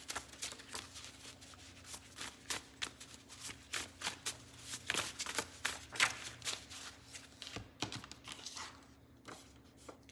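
Tarot cards being shuffled close by, a long run of quick papery riffles and soft slaps at an even pace, quiet, with no talking.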